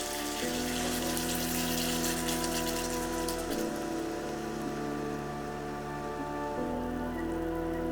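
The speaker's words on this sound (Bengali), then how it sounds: "আমি এবার ঝোলের জন্য পানি দিয়ে দেব" Water is poured from a cup into a pot of potato and eggplant curry to make a thin gravy, producing a steady, continuous close splashing hiss throughout.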